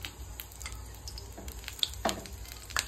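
Whole spices — bay leaves, cinnamon, cardamom and cloves — frying in ghee for pulao, a faint quiet sizzle with soft crackles and a few sharp pops and stirring clinks close by.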